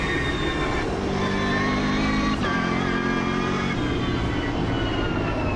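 Race cars in a racing video game, with a loud, continuous high-revving engine whine that climbs and shifts through gears, close up and without any talk.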